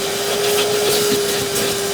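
A Giraffe Tools retractable vacuum cleaner sucking through 30 feet of hose inside a van, giving a loud, steady rushing hiss with a constant whining tone and a low rumble beneath, close and unbroken.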